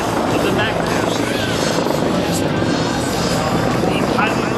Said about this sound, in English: The highly versatile helicopter can carry 36 combat loaded troops into harm's way.